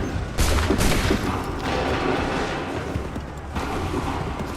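Massed musket volley in the Assassin's Creed 3 game, a dense, loud burst of overlapping gunshots followed by rumbling echoes and a second crackling wave of fire.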